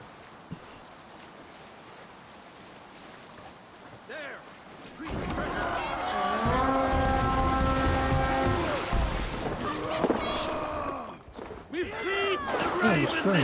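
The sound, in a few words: sailing ship on the sea in video game Assassin's Creed Valhalla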